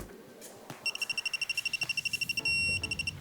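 Torque tool alarm set to 1.75 Newton meters while fixing a glazing packer, giving a rapid run of sharp, evenly spaced electronic beeps that ends in one longer continuous tone, loud and close.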